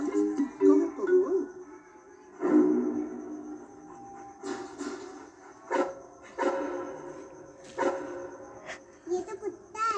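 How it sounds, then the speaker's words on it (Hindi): A dog in a cage gives a series of barks, yips and whimpers in uneven bursts, close and fairly loud, mixed in with people talking, some of them children. "ये तो कुत्ता है।"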